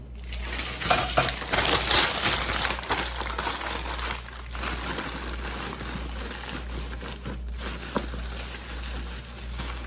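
Newspaper being crumpled and stuffed into a gift basket, crisp crinkling bursts up close with a few light knocks, over a faint low hum.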